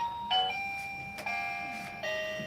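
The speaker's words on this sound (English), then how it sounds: "those alarms are because someone's near my house" Electronic house alarm chime set off by someone approaching the house, three bright repeated tone sequences with ringing overtones, fairly loud and close, no talking over them.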